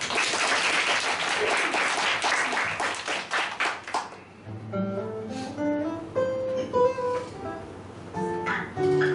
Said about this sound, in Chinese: 给我拍拍手笑好不好？